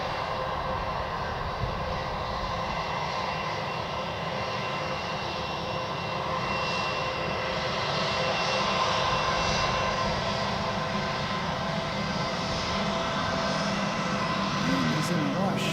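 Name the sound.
aircraft engine as plane comes down to land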